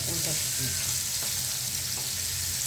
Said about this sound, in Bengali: উল্টে পাল্টে মাছগুলিকে আমরা ভেজে নিই